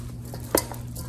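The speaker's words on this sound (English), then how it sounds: "Turning it, mixing it all together." Cornbread dressing with sausage and apples stirred in a pan, a single sharp scrape or clink of a utensil against the pan at mid-clip over a low steady hum.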